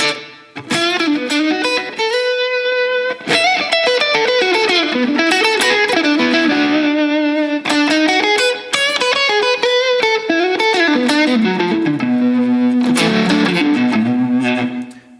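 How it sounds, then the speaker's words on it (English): A bluesy electric guitar plays through an overdriven amp, with a wavering tremolo pulse and a reverb tail, from an Enya Inspire carbon fiber smart guitar's built-in speaker. Loud and continuous, no voices. "This next one is kind of like a bluesy, you know, overdriven amp with some tremolo and reverb"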